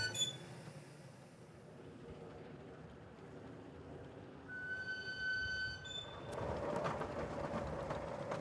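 A faint, distant rumble of a small 9.5-inch gauge steam railway train, with a brief high whistle partway through and louder running noise toward the end.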